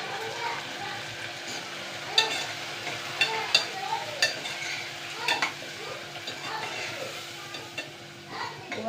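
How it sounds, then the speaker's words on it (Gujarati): Cluster beans tempered in a hot pan, sizzling steadily with light stirring scrapes and a few sharp utensil clicks against the pan. "ગુવારનું શાક વઘારાયેલું છે"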